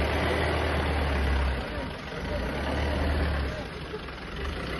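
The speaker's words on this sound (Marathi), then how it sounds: "तर तुम्हाला दाखवतो कशा प्रकाराने वळी होते गाडी" A truck's engine idles and rumbles low at a poultry farm as it turns around, the steady drone swelling and easing slightly while a voice talks over it.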